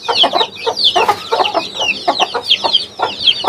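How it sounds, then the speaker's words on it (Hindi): Aseel poultry hens clucking and chattering close by in a coop, with repeated short bursts in an irregular rhythm, loud and lively. "मुर्गी है ये"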